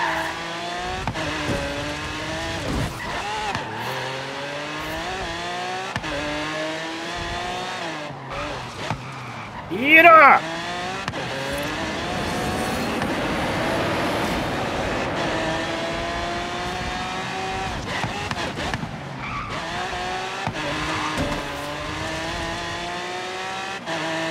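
In Forza Horizon 3, a car drifts and skids under the handbrake: a revving engine whines and shifts through repeated rising pitches, and a sharp tire screech cuts in partway through, with a voice talking over the race.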